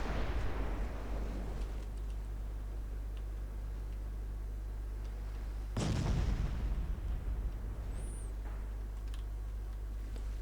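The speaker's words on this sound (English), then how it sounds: "Six-inch guns on Prometheus not really doing too much to me." Six-inch naval guns fire in a naval video game, with one loud, heavy report near the middle of the clip standing above a steady low rumble.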